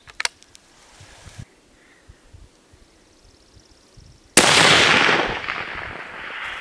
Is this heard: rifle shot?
yes